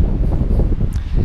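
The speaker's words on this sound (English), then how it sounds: "Very windy, so hopefully I'll try and shelter the camera from the wind while I'm talking." Strong wind buffeting at a wild camp beside a loch, a loud continuous roar of gusts rumbling across a microphone for a brief moment.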